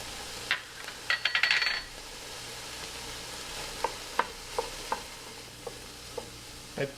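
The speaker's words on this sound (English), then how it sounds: "The apples have been cooking for about 3 minutes." Apples in a frying pan sizzle steadily while a spoon stirs them, a quick burst of scraping early on, then scattered sharp taps and scrapes against the pan over the constant hiss, close and alone.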